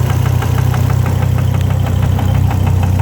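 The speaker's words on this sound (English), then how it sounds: "engine's knocking as you can hear." A Volvo engine with low oil pressure idles with a steady, rhythmic knock from inside, close and loud, with an even mechanical tapping throughout and no talk.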